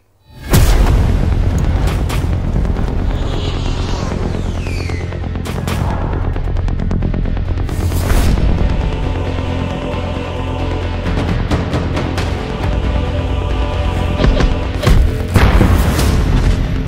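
Heavy artillery fire and explosions from a film trailer roll through as dense, loud booms and blasts. Rapid gunfire and rumbling impacts overlap almost continuously.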